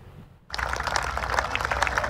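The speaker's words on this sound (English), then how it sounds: "A round of applause as if the tournament had already started." Golf fans applaud Tiger Woods around the 18th green at Valhalla, hundreds of spectators breaking into a sudden dense burst of outdoor clapping that holds steady and loud to the end.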